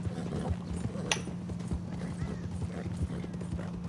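Horse hooves clip-clop at a steady walking rhythm in the Red Dead Redemption 2 video game, moderately close, with no talk over them.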